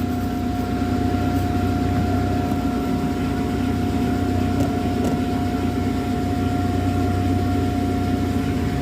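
A Chevrolet Beat engine idles around 925 rpm, a Beat suffering from low pickup and low mileage, giving a steady low hum with a faint constant tone, even and unbroken throughout and free of talk.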